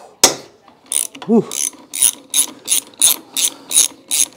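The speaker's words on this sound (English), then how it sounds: "now we can take off the top shock nut and bolt. It's a 17 millimeter." A ratchet loosens the 17 mm upper shock nut on a Honda CBR/VFR 800 motorcycle, giving eight or nine quick, evenly spaced clicking strokes up close after a brief exhale.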